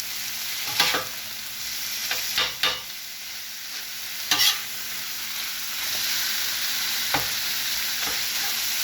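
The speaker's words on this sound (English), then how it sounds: "Let it finish cooking and brown up. Sizzle time." Chopped cheeseball meat, a chopped cheese and meatball mix, sizzling as it fries on a flat cooking surface, a steady hiss broken by a few sharp scraping stirs, close and with no talk.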